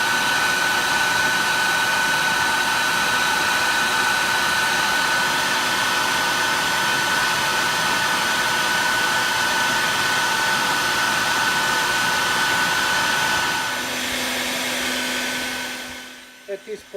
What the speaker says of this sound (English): I'm taking advantage of that and vacuuming them once in a while.